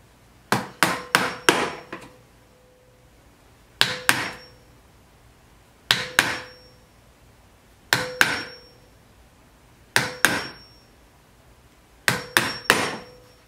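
A pegging awl in a haft is struck to punch holes for pegs in a boot sole, giving sharp, close hammer taps in repeated clusters of two to four blows separated by brief pauses.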